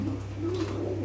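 Pet pigeons at feeding time give a close, soft cooing call, rising and falling in a single short burst over a faint steady hum, with no talking.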